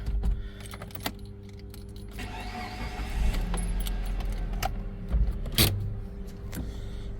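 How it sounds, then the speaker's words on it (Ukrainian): Keys jangle, then a Mitsubishi Outlander engine cranks and catches, settling into a steady idle with a few clicks and knocks over it. "запустимо двигун, послухаємо, як він працює"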